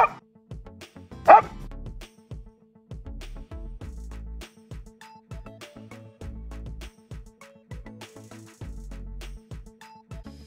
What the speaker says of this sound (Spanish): Aquí ya no necesitas motivar a tu perro con ese premio en movimiento para que ladre